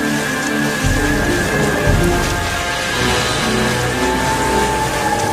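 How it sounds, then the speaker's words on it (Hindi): Heavy rain pours down in a village, a dense, continuous hiss and patter with low rumbling underneath, loud and steady with no voices. "अब की बार इतना तेज बारिश आ रही है"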